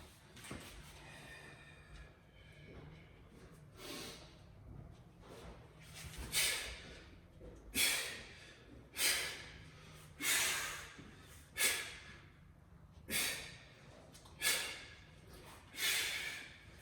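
Heavy, forceful breaths after a set of heavy lifts, close and loud, repeating in a steady rhythm of sharp exhales roughly every second or so, with no talking.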